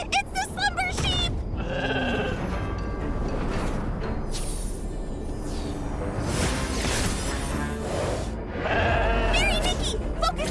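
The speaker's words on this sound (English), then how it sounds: "Ah, it's the Slumber Sheep!" Sheep bleating repeatedly in the Infinity Nikki game soundscape, mixed with music and voices, loud and busy throughout.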